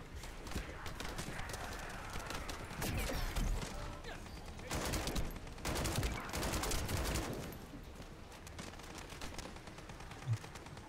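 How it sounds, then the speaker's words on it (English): Sustained gunfire from The First Descendant crackles in bursts of rapid shots, heaviest around the middle, over a constant busy game background. "Stop shooting me."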